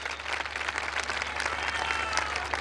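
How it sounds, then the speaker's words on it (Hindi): A church congregation in Faisalabad applauds its servants and worship team, a steady, dense wash of clapping from a large crowd that holds evenly throughout, with a low hum beneath and no speech over it. "इन सभी खादमों के लिए, चर्चिज के लिए जोरदार तालियां बजाइएगा।"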